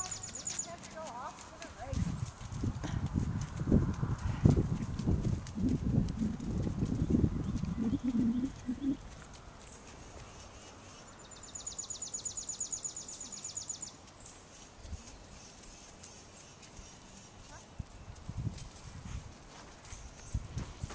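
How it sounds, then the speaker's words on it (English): Hooves of a hot, nervous horse clip-clop at the canter during a riding lesson, with a steady rhythmic drumming that is loudest early and then fades. A voice talks over the hoofbeats, and birds coo faintly in the background. "You're just going to keep loosening her jaw, loosening her pole, using her neck."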